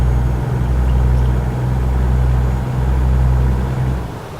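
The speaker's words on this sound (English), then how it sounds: "sound of the truck's pretty cool." Steady truck engine drone in American Truck Simulator, a continuous low rumble that swells and dips gently as the rig cruises along, loud and close, with no talk over it.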